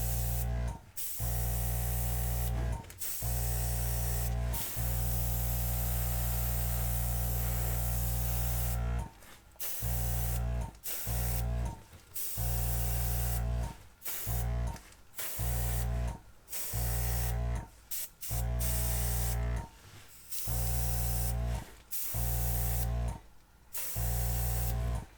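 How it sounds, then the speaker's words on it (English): An airbrush blows bursts of air over a craft project, steady hissing spray in repeated blasts separated by short pauses, with a constant low hum underneath throughout. "And I'm just going to blow it out with the airbrush."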